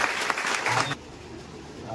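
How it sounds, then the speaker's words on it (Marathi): A hall audience at a student felicitation ceremony claps loudly and densely for about a second before the applause stops abruptly, leaving quiet room tone. "बापूसाठी जोरदार एकदा टाळ्या वाजवा"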